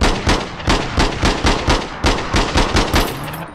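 Rapid automatic gunfire in the shooter game APB Reloaded, a loud, close, evenly spaced string of shots in short bursts with no talking.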